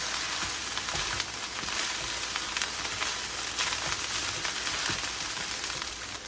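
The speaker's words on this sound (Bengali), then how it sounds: "আর দিয়ে দিব একটু সয়া সস। এখন দিয়ে ভালোভাবে মিশিয়ে নিব।" Fried rice being tossed with soy sauce in a hot pan, giving a dense continuous sizzle with scraping stir strokes throughout, close and fairly loud, with no one speaking.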